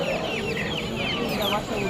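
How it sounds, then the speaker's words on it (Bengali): Brahma breed chickens cluck at a Mirpur market stall, steady close fowl chatter with overlapping bird calls throughout. "ব্রাহ্মা জাতের মুরগি"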